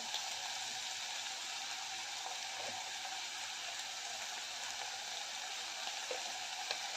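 Potato and pavta beans fry in a pan with a pinch of asafoetida, giving off a steady, dense sizzle that holds evenly throughout with no talking.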